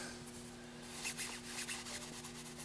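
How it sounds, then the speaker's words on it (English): A cloth rubs dust off a vinyl record, faint soft swishing strokes repeated close by over a low steady hum. "let's see if we can wipe some of the dust off of it anyway"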